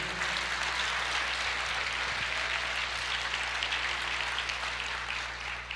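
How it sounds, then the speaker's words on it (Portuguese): A church congregation applauding during a sermon, a steady even wash of clapping that holds for several seconds under a low constant hum, with no talk. "Você pode aplaudir o Senhor?"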